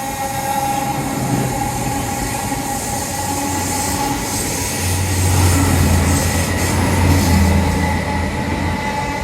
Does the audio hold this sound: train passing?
yes